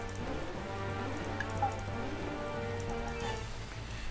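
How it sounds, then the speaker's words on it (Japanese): Steady rain falls in Taikou Risshiden V, a dense, even patter holding for the whole stretch beneath soft background game music. "雨なんでね"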